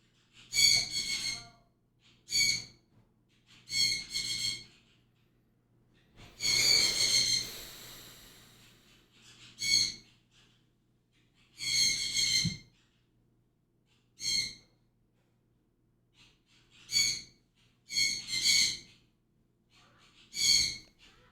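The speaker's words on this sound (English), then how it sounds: "My birds this weekend have been really chatty." Pet birds chirping and chattering indoors in short repeated bursts of bright calls separated by quiet gaps, fairly soft and close, with no talk over them.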